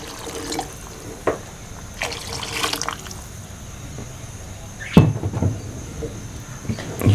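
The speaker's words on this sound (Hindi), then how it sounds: "अब मैं इसमें डाल देता हूँ पानी। ये 3 गिलास पानी की डालता हूँ।" Three glasses of water are poured into a pot of browned chicken curry with peas, giving splashing and trickling pulses with clinks of a glass or utensil against a quiet kitchen background.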